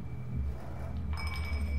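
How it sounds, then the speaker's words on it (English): Glass clinks in the video game SOMA, a bright ringing chime that starts partway through over a low droning ambient hum, with a few small follow-up taps. "Oh no, I don't need to break that glass."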